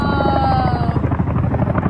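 A military helicopter thunders close by as it arrives, its rotor chopping in a rapid steady rhythm under a descending turbine whine, loud throughout.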